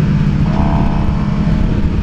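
A 2017 Suzuki GSX-R750 motorcycle engine pulls steadily at low RPM, around 3500, with a loud, continuous droning rumble and wind noise throughout the short stretch.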